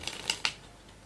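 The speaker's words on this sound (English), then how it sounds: "You show the cards are genuinely being shuffled" A deck of playing cards shuffled by hand, three quick, close riffling bursts within half a second and then a faint trailing flutter, with no speech.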